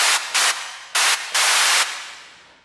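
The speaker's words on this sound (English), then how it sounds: "you can kind of hear that's the high component of my white noise sound. White noise, high frequency filter." Synthesized white noise sent through a high-frequency filter, heard as sharp, loud hissing bursts of uneven length that cut on and off abruptly, with the last one fading into a short tail.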